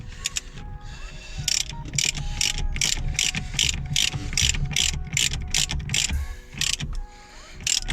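A ratchet turns on a steering wheel puller during a steering wheel change on a Corsa B GSi, making close, sharp bursts of rapid clicking strokes with short pauses between them.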